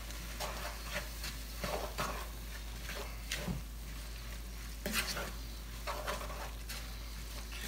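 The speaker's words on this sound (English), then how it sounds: "Let's give it a quick stir." Brown sugar is stirred into a smokehouse beans mixture, quiet scraping strokes of a utensil over a faint steady hum, soft and close with no voices.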